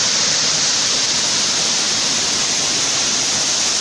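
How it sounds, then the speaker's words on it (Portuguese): A loud, constant roar of falling water, dense and unbroken like a close waterfall pouring steadily, at Itaci waterfall in Mato Grosso, Brazil. "Olha a altura que vem essa cachoeira."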